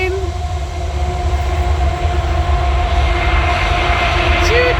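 A train rumbles past steadily nearby while its horn sounds in long sustained tones over the low rolling noise.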